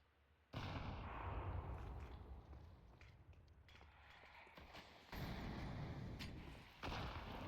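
Rapid gunfire spammed through smoke in the Counter-Strike video game during a professional esports match, sustained and dense bursts filling the clip with a few louder surges.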